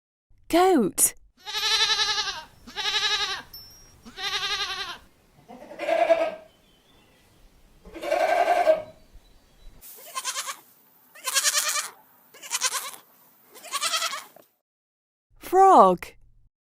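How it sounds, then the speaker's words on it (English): A goat bleats repeatedly, about a dozen loud wavering cries in a steady rhythm, close by with short gaps between them. "Goat."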